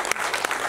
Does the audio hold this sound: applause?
yes